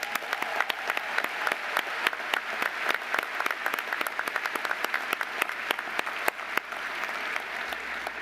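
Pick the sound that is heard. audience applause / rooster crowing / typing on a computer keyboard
audience applause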